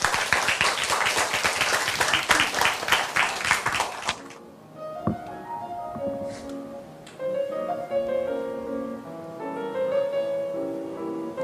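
Audience applause at a literary reading, dense and steady for about four seconds before it stops and soft melodic tones take over.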